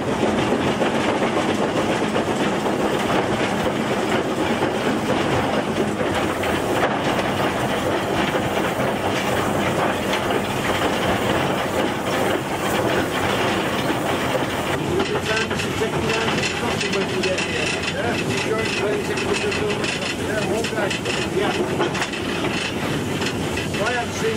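Steam locomotive working along the rails of the Elsecar Railway, a steady continuous rumble with rhythmic clickety-clack and hiss of steam, loud and close for the whole stretch with no one talking.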